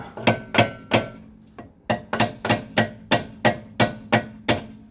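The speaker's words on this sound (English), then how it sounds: "Let me see if I can knock this bottom bolt out." Sharp metallic hammer blows ring out in a steady series as a rusty bottom bolt is knocked out of a Dodge Caravan's rear shock mount, about a dozen strikes with a brief pause early on, loud and close.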